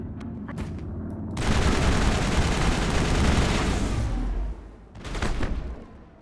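Gunfire in the video game Mass Effect: a loud, dense burst of rapid shots that lasts several seconds, then a brief pause and another short burst, close and harsh.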